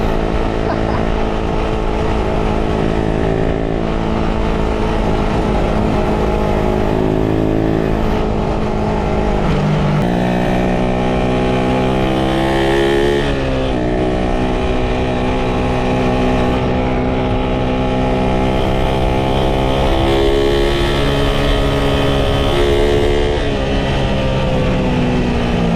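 Suzuki Raider 150 motorcycle engine with an original carburetor, revving loudly and continuously up and down in close range, pitch rising and falling through repeated throttle blips.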